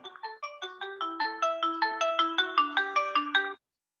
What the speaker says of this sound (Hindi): उसी का फोन होगा सर।